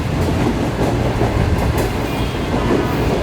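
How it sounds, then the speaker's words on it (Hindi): The Shalimar Express, running over an hour late, approaches Kanpur Katora railway station near Lahore. It makes a loud, continuous rumble with the rhythmic clatter of wagons rolling past close by. "5:22 में तकरीबन 1 घंटा 15 मिनट लेट हमारी ट्रेन अप्रोच बना रही है"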